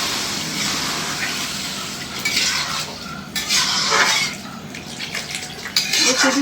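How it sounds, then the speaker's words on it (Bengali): Water is poured into a pan of curry being made into gravy in a home kitchen, giving a steady hiss and splash with occasional clinks of a utensil against the pan, fairly close and continuous. "এখন ঝোলের পানি দিয়ে দিই"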